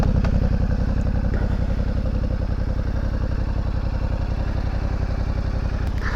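A 2021 Yamaha Tenere 700 adventure motorcycle idling up close, its engine putting out a steady, even, rapid thumping throb for the whole stretch with no voices over it.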